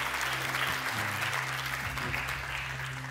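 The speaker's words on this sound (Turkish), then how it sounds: "O zaman beni de alkışlamanız lazım." An audience applauds at a Quran recitation competition, a dense, even burst of clapping that holds at full level for a few seconds.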